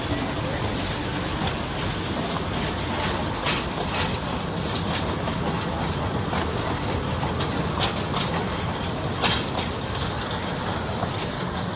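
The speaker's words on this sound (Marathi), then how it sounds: "मस्तपैकी ट्रेन गेली" A tourist train on the track through Borivali National Park rolls steadily past close by, a continuous rumble and clatter of wagons with faint rhythmic wheel clicks throughout, no speech.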